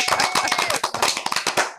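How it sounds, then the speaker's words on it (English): Hosts in a sports radio talk-show studio clap for the Carolina Hurricanes hockey team, giving close, brisk, continuous hand claps for about two seconds with no talking. "So how about giving a round of applause?"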